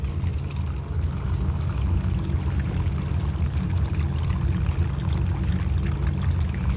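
Small solar-powered fountain pouring filtered water, a steady continuous splashing trickle heard up close with no break and no talk.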